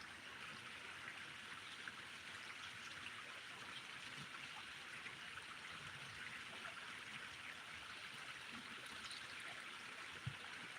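A river stream flows steadily outdoors, a faint, even watery rush with soft trickling that continues unbroken throughout, with no voices.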